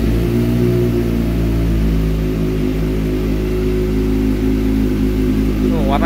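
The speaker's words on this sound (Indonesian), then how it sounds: "Nah, selanjutnya knalpotnya Akrapovic Carbon." A Kawasaki ZX25R fitted with an Akrapovic carbon exhaust runs close by with a dense, buzzing engine note, holding a steady high idle that shifts pitch slightly partway through, loud and continuous throughout.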